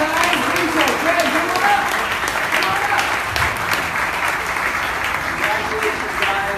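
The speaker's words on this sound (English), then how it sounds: "Round of applause, guys." An audience at a travel disruption summit in New York City applauds the winners, steady clapping from a sizable crowd running for several seconds, with voices faintly mixed into the background.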